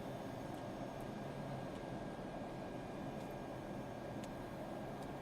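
A Cessna's propeller engine drones steadily in a flight simulator game, a constant, even hum with no breaks and no talking.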